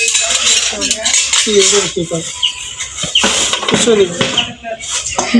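Plates and a salt bowl are handled with repeated ceramic clinks and clatters close by, while people talk over the noise.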